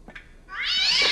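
A loud, drawn-out cat yowl rising sharply after a couple of faint short mews, harsh and strained like a caterwaul, close and alone.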